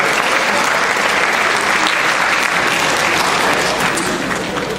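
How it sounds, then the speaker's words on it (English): At a school science and technology fair opening ceremony, a large crowd claps loudly and continuously for several seconds, a dense wash of applause with no voices over it. "I'd like you to give a round of applause to your teachers, to your parents, and to your mentors"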